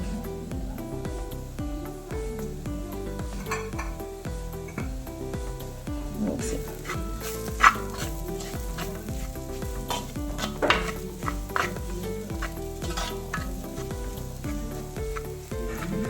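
Jackfruit thoran masala being stirred in a hot pan, with a steady sizzle, scraping spoon strokes and a few sharp metallic knocks against the pan, close and continuous with no voices.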